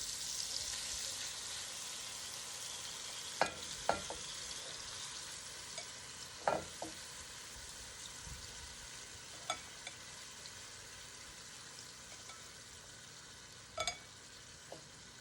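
Beef tips sear over medium-high heat in butter and olive oil in a Dutch oven, producing a faint continuous sizzle broken by a handful of sharp clicks and knocks.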